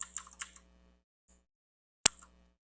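Keyboard typing during a coding lesson on real-time input validation in a Java web development class: a quick cluster of clicky keystrokes, a pause, then one sharp key tap with a brief trailing click, near and fairly quiet with no talk.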